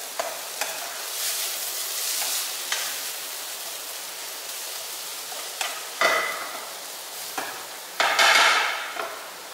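Shredded papaya is cooking in a pan, with a soft steady sizzle under occasional louder scraping stir strokes from a utensil against the pan, close by and with no voices.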